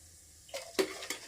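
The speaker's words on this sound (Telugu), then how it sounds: "పోపు మాడిపోతుంది ఏమని మా వారు కదుపుతున్నారు" Mustard seeds and cumin tempering in a pan being stirred: three soft scraping strokes of a spoon over faint sizzling, quiet and close, no voices.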